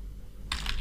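Keystrokes on a computer keyboard while entering a Hive query command, a short burst of several quick clicks starting midway, close and fairly loud after a quiet stretch.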